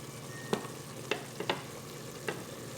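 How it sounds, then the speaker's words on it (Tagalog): Sliced carrots are stirred in a sizzling pan for chicken sotanghon guisado, with a steady low fry under a few soft scrapes and clacks of the utensil against the pan. "So haluin na natin siya"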